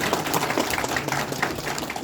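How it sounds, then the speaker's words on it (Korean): An audience at a community meeting with the mayor of Pocheon, South Korea, held at a local administrative welfare center, gives a brief burst of steady, dense applause. "한번 시장님께 큰 박수 좀 부탁드리겠습니다"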